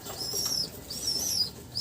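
Pakistani pigeons kept in a loft make soft, close sounds with brief flutters and a few faint cooing and chirping notes, quiet and irregular, and high whistly tones recur throughout.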